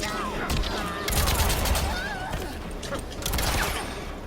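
Rifle gunfire from Erron Black in the Mortal Kombat fighting game, a busy run of repeated shots and impacts mixed with game effects and character voices across the whole stretch.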